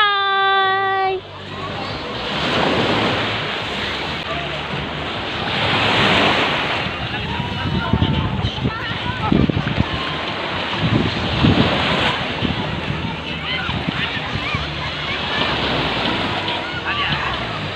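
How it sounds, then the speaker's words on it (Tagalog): Ocean waves wash and break steadily with heavy wind buffeting the microphone, and voices speak briefly at the start. "andito tayo sa dagat."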